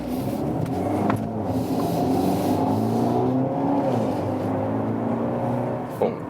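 A 2020 BMW X1 25i with its 2-liter four-cylinder engine pulls hard under acceleration, a steady close droning rise with rising harmonic tones throughout.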